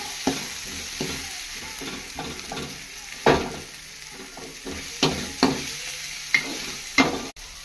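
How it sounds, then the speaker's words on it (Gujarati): Potatoes and tomatoes roast with a steady sizzle in a pan while a spoon stirs and taps against the metal in occasional sharp knocks, close up and without speech. "ચાલો આપણે હવે ચેક કરી લઈએ કે બટાકા ટમાટર બરાબર શેકાઈ ગયા છે કે નથી શેકાઈ ગયા."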